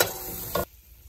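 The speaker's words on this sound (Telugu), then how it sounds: "ఇప్పుడు ధనియాల పొడి 1 స్పూను, చికెన్ మసాలాతో పాటు కొంచెం 1/2 స్పూన్ గరం మసాలా, 1/2 స్పూను, ఇవన్నీ మిక్స్ చేసుకోవాలి." Coriander powder, chicken masala and garam masala stirred into chicken curry in a pan, a dense close scraping and sizzling that cuts off sharply after about half a second, leaving quiet.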